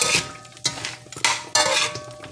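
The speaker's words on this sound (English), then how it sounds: "So we're going to add it back in there and stir it." Chicken back and ackee are stirred in a pot, with four or five distinct scraping, clanking strokes of a utensil against the metal over a faint sizzle, close and with no talking.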